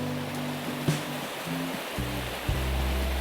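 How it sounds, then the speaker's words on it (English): A waterfall and river in a hilly outdoor landscape give a steady, broadband rush of falling and flowing water, continuous and fairly loud, with a couple of low thumps and some brief low tonal hum underneath. "We've got the waterfall, we've got the river, we've got hills"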